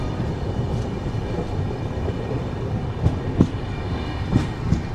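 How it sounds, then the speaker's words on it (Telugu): Pawan Express rolls along the tracks after leaving Chhapra Junction, a steady loud rumble from inside the train with a few sharp clacks of wheels over rail joints near the end. "మన ట్రైన్ చాప్రా జంక్షన్ నుంచి అయితే బయలుదేరిపోయింది"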